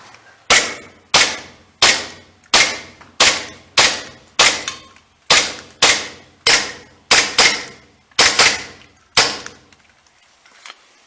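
An airsoft submachine gun fires about a dozen single semi-automatic shots, each a sharp, loud, close crack with a short decay, spaced roughly every half second to second, with no talk.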